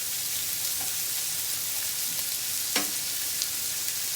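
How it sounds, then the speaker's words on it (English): Sausage and onions fry on a flat-top griddle at about 360 degrees, giving a steady, even sizzle with a few faint scrapes and pops, close and continuous with no talking. "So we are starting right here with our sausage and with our onions."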